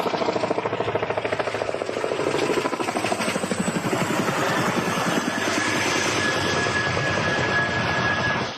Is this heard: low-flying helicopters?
yes